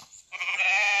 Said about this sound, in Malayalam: ആട്ടം കുട്ടി.